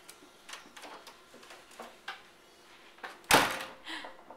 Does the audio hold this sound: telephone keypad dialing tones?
no